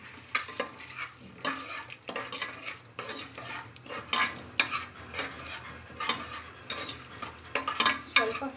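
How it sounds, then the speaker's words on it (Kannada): Spices fry in hot oil and ghee for kushka, a close, gentle sizzle under repeated rhythmic clinks and scrapes of a metal spoon stirring in the pan. "ಇವಾಗ ಸ್ಪೈಸಸ್ ಆ್ಯಡ್ ಮಾಡ್ತಾ ಇದ್ದೀನಿ ಸ್ವಲ್ಪ ಫ್ರೈ ಮಾಡ್ಕೊಳ್ತೀನಿ"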